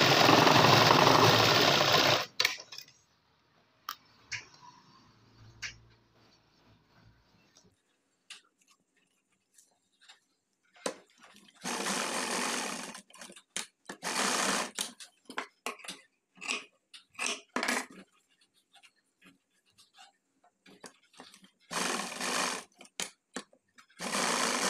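Sewing machine stitching a pocket flap for a new Indian Army uniform, running in a long opening burst and then in many short start-stop runs with quiet gaps between them, close and clear.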